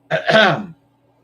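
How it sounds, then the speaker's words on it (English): A single short, raspy throat clearing, close and fairly loud, followed by quiet. "Sorry for clearing my throat."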